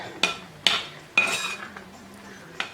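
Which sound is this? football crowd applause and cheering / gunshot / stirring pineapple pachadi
stirring pineapple pachadi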